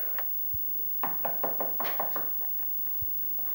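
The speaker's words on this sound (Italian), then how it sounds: "hanno bussato alla porta" Knocking on a door: a few isolated taps, then a quick run of about seven knocks, then a final single knock, all crisp and fairly close with no voices.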